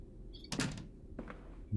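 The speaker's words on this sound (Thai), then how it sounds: "เสียงปิดประตู" A door closes in the horror game Amnesia: A Machine for Pigs, giving a soft thud with a short creaking, scraping tail and a second fainter knock, heard over a low steady ambient hum.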